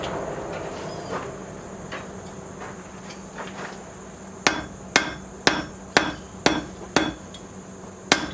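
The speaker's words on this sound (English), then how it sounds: "You can see I'm hitting not with the face of the hammer," A blacksmith strikes hot metal with the edge of a hammer to lengthen and thin it, sharp ringing blows that come in a steady run of about eight evenly spaced hits after a quieter stretch of faint workshop noise.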